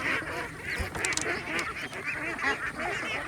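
Free-range ducks feeding on rice bran and corn, with a steady, busy chorus of quacks and honking calls close by, continuous throughout with no talking.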